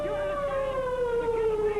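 A distant air raid siren holds a long, slowly falling wail, steady and unbroken.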